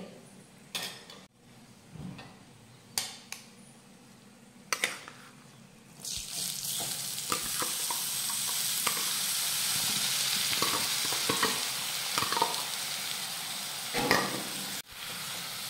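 Barnyard millet roasting in ghee: a quiet start of scattered clinks and knocks, then a sudden rising hiss of sizzling grain that carries on steadily with light stirring taps over it.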